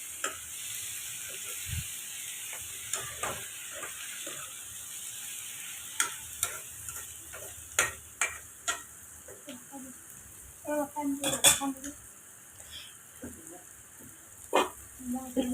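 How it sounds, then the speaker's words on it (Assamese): Duck and pumpkin curry being stirred in a pot in a village kitchen: a low simmering hiss with scattered scraping clicks of a spoon, growing busier toward the end. "ভালদৰে লৰাই ল'ম, সকলোখিনি মিক্স হোৱালৈকে।"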